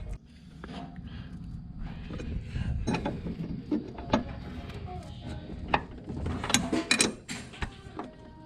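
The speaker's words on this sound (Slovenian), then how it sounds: "Bolt check ni nič drugega, kot samo to, da preveriš, da so pač vsi vijaki, vse matice zategnjene na podvozju" Bolts and nuts being tightened on a drift car's chassis before a hillclimb event, irregular metallic ratcheting clicks and clanks with scattered sharp taps, close and moderately loud over a low workshop rumble.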